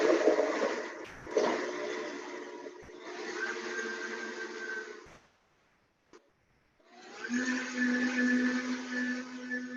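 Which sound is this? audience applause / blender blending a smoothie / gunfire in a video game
blender blending a smoothie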